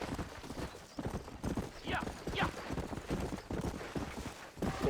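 Horse hooves clip-clop at a steady walking pace in the Western video game Red Dead Redemption, with a brief whinny partway through and game voices talking over the steps.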